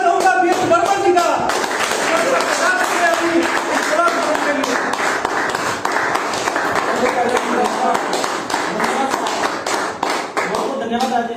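Steady applause from an audience welcoming a speaker at an academy event, continuous and fairly loud throughout, with a voice talking briefly over the clapping.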